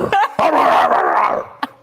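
A voice imitates a dog's bark with a drawn-out, whining woof, then gives a short sharp yelp at the end. The voice is loud and close, like banter on a sports talk show.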